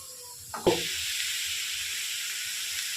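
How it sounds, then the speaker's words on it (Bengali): Carrot fries in ghee in a pan for gajar halwa, a sudden clatter as it goes in and then a loud, steady hiss and sizzle that carries on evenly close by. "যতক্ষণ না এটা নরম হচ্ছে ততক্ষণ একটুখানি এটাকে এই ঘিয়েতে ভাজতে হবে।"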